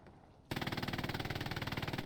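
Machine-gun fire in a multiplayer World War II-style shooter game erupts suddenly after a brief quiet moment, then continues as a fast, steady, evenly spaced burst of loud rapid shots to the end.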